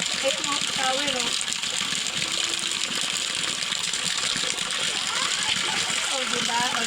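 Water gushes steadily from an improvised shower rigged over river rocks in the mountains, a continuous rushing splash throughout while an adult and someone talk over it.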